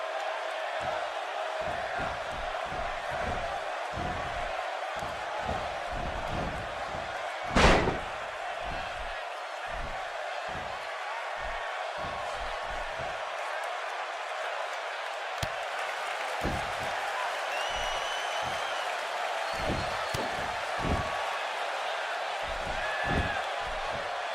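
A WWE 2K18 wrestling arena crowd keeps up a steady roar throughout a SmackDown match, with a single loud slam partway through and rhythmic thuds underneath, while commentary voices talk over it.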